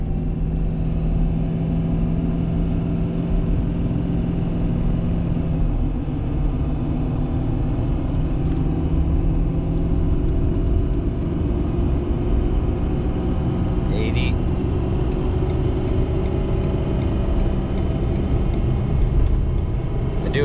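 Pickup truck on 35-inch mud tires, single rear wheel, accelerating while towing a heavy load: a steady, continuous engine and road rumble throughout, with talk over it.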